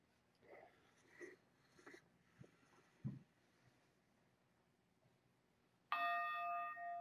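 A single meditation bell is struck once near the end and rings out clear and sustained, following a quiet stretch of faint breathing and soft rustles.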